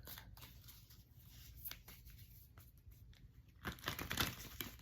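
Tarot cards are shuffled close by, with soft repeated riffling and papery flicks that build into a louder burst of shuffling near the end, and no talking.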